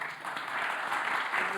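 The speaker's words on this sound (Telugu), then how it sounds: "చప్పట్లు కొడతారా?" A church congregation at a Christian holy convocation conference breaks into dense, steady clapping that fills the whole moment, with faint voices mixed in beneath it.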